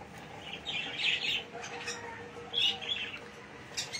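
Parakeets in an aviary chirp and tweet in bright, overlapping bursts, several birds calling close by in quick clusters over a low background murmur.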